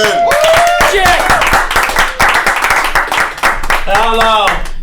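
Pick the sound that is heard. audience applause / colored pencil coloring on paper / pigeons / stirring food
audience applause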